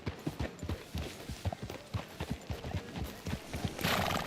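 Horse hooves clip-clop steadily in Red Dead Redemption 2, a close, even rhythm of hoof falls on the ground that continues throughout, with a brief burst of noise near the end.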